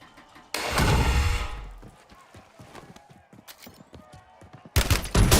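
Call of Duty Warzone battle royale match with gunfire: a loud, sustained burst of shots near the start, a stretch of sporadic scattered shots, then another loud burst at the end.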